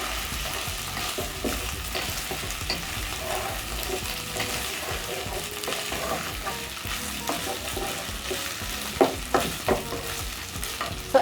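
Pork sizzles steadily in a hot pan as it crisps for a pork wet fry, with a spatula stirring and scraping through the pieces and a few sharper clatters near the end.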